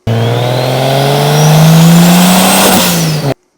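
Turbocharged BMW 1 Series with a single-turbo N54 engine revs hard, pitch climbing steadily for about three seconds before cutting off abruptly, loud and close with no talking.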